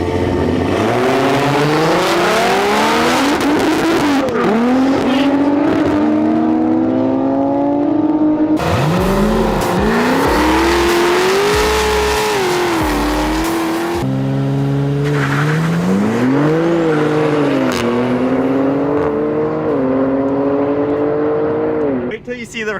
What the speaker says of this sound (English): Are you gonna beat Jason's M340 in the Supra?